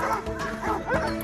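A police service dog in a Vietnamese training unit barks and yips in rapid, loud bursts close by, with whimpering tones between barks.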